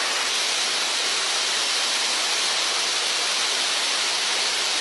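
A waterfall in the Philippines pours in a steady, loud, broadband rush that fills the whole stretch without a break, with no voices over it.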